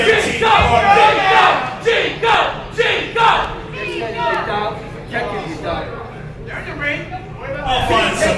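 A wrestling crowd in Orlando yells, cheers and shouts in loud repeated bursts around a ring, with an announcer's voice amplified over the noise.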